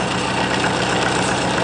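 A homemade pulse motor runs close by with a steady, dense mechanical buzz and a rapid, even pulsing rhythm throughout the short stretch.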